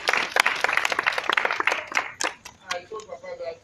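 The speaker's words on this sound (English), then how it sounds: "let's give a very big round of applause." An audience gives a big round of applause at a branded entrance event, dense clapping that thins out toward the end as a voice begins speaking over the fading claps.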